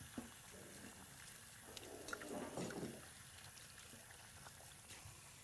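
Tap water running into a sink as children wash their hands in a kitchen during a cooking session, a faint steady hiss and trickle that splashes a little louder for a moment.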